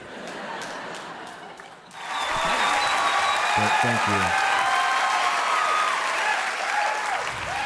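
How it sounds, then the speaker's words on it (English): Comedy club audience breaks into loud, sustained applause that swells after a brief spoken thanks and carries steadily to the end, with a male comedian's voice heard briefly over it. "you should be clapping a lot"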